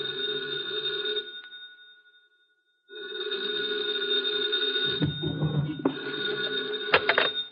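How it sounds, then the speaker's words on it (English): A telephone rings at night in an old radio drama, two long, loud electric bell rings separated by a short silence, followed by faint handling clatter near the end. "2 o'clock in the morning, the phone rang."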